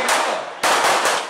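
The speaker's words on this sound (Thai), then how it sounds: "ยิงเปลี่ยนแม็กนะครับกำลังพร้อม พร้อม ระวังยิงเป็นสไลด์ยิง" Police cadets firing pistols at an outdoor range, three sharp, loud cracks spaced about half a second apart, with no talk between the shots.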